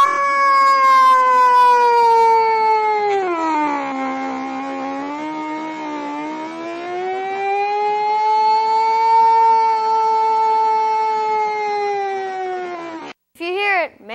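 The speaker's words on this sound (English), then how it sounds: "The city has come up with a new siren that the cats can easily respond to." A loud, sustained wailing warning siren rises and falls in long sweeping tones for many seconds, close and prominent, then cuts off briefly near the end.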